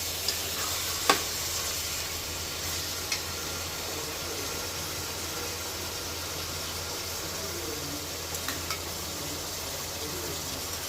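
Steady sizzling of chicken sautéing with yogurt in a pan, with a few soft clinks of a spoon stirring, continuous and close.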